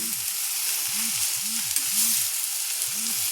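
Cabbage momo filling with black pepper and chopped green chillies is stirred in a frying pan, with a steady hissing sizzle and a regular series of low scraping strokes close by.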